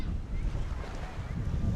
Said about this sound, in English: Here comes a gust of wind.